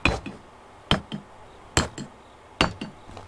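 Hammer blows striking a wooden wall in the Medieval Dynasty video game, four sharp, loud knocking impacts spaced about a second apart, each followed by a quicker, softer secondary knock.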